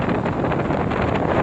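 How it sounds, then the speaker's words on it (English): Strong wind gusts buffet the microphone at the seaside on the rocks at Surfer's Point in Ventura, California, a loud, steady roar filling the whole moment with no speech. "Windy, windy."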